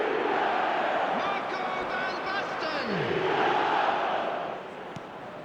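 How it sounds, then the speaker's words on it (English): A stadium crowd in a football video game chants and roars in rising and falling swells, loud and continuous, with a commentator's voice briefly over it before the noise eases near the end. "The crowd are calling for this to be put to bed."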